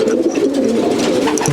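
Racing pigeons coo in a loft, a dense continuous low murmur of many birds close by, with soft rustling throughout.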